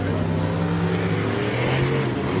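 Off-road race vehicles roar at the MetalCloak Stampede, a continuous loud engine drone with shifting pitch as the machines push hard around the course.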